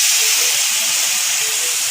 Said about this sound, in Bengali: সোয়া গ্রানিউলসটাকে এবার আমি হালকা তেলে ফ্রাই করে নেব।